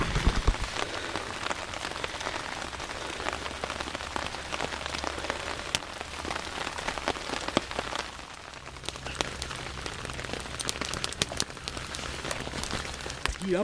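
Rain falls steadily outdoors around a campfire where a canteen cup lunch is cooking, a dense, even patter on nearby surfaces that continues throughout with no voices.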